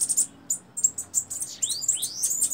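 A young male bananaquit gives rapid, high, thin chirps and tweets in quick irregular bursts, with a couple of rising sweeping notes, heard close and clear over a quiet background.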